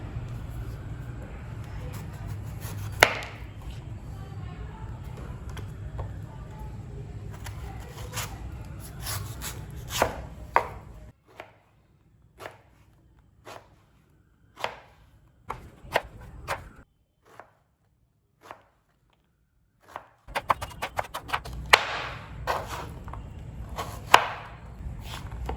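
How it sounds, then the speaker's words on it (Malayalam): Raw mango being chopped into small pieces for a spicy Andhra-style coconut chutney: a knife strikes the board in quick bursts, with a dense run of chops, then scattered separate cuts, then another quick flurry, all close and clear. "ഇത് നമ്മൾ നന്നായിട്ട് ഒരു ചെറിയ ചെറിയ പീസസ് ആക്കി കട്ട് ചെയ്യാൻ പോവാണ്"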